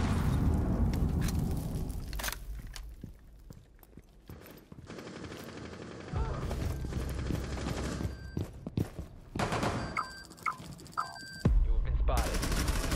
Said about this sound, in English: C4, ready. Fire it.